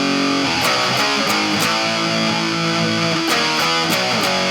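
A riff played smoothly on a distorted electric guitar, with sustained overdriven notes flowing into one another and a few sharp pick attacks, loud and close with no talking.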